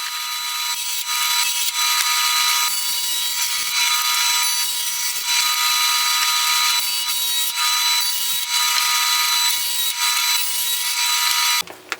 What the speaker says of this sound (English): I took over all the pieces of poplar to the joiner to smoothen up